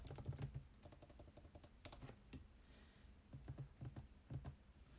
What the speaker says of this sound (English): and now you can begin typing.